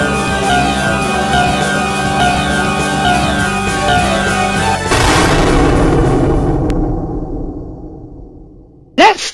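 A cannon or artillery piece fires one heavy, loud boom about halfway through, over a steady droning backdrop, and its rumble fades afterward.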